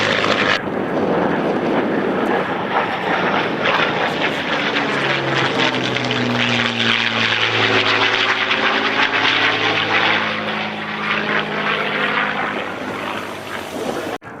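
A Spitfire PR-11 photo-reconnaissance aircraft, a long-range variant built to carry extra fuel, passes during a flying display, its loud propeller engine roar swelling and sweeping with a strong Doppler drone that fills the whole stretch.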